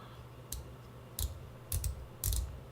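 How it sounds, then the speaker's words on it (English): A 60-click bidirectional bezel on a BOLDR Odyssey Regatta chronograph watch is turned in short bursts, producing four small clusters of crisp, faint ratcheting clicks close up in a quiet room. "Now this bezel itself is actually a 60 click bezel,"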